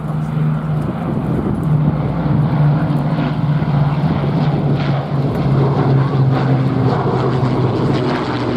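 A Mustang warbird's propeller engine drones loudly and continuously overhead, a steady rumbling roar that fills the whole stretch with no voices.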